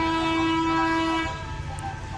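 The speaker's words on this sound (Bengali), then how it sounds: "ট্রেন আসছে" A train approaches at dusk in fog, its horn sounding a sustained steady tone for about a second before cutting off, leaving a low rumbling rail noise underneath, moderately distant.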